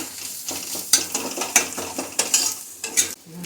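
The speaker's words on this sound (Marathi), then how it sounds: "हे सगळं आपल्याला एक मिनिटभर परतून घ्यायचं बारीक गॅस करायचं म्हणजे मसाले जळणार नाही" Spices and kitchen king masala sautéed in a pan over low heat, giving a steady close sizzle broken by frequent scraping and stirring strokes of a spoon against the pan.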